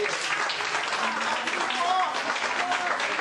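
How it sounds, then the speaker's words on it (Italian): An audience at a song showcase evening breaks into sustained applause, a steady, even wash of clapping with voices faintly mixed in. "Alario Filippo, facciamo un applauso!"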